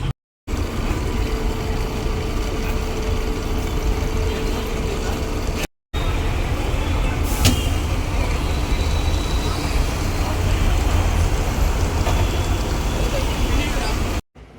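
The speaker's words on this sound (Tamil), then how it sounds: "டிராஃபிக்லேயே தான் போயிட்டுருக்கோம்." Steady road traffic noise heard from inside an omnibus driving through Chennai traffic, a continuous engine and roadway rumble with a brief cut partway through, and a voice talking over it.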